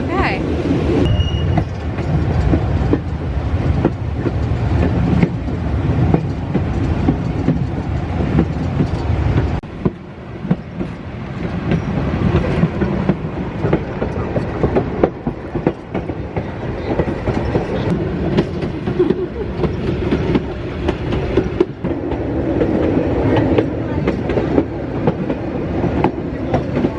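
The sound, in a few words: train riding along the Rhone valley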